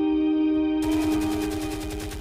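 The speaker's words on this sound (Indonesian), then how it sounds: "para serdadu menembakkan senjatanya ke arah kerumunan massa" Soldiers firing guns into a crowd during the 1984 Tanjung Priok massacre in Jakarta: after a steady tone, a dense rapid burst of gunfire starts and continues as a rattling volley, loud and echoing.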